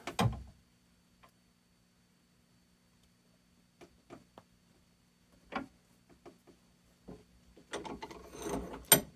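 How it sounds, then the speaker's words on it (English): A scissors rivet being tightened in a bench vise gives a few sparse metallic clicks and creaks against quiet, then a busier burst of scraping and rattling near the end. "Get that placed in the bench vise. Start to tighten it up."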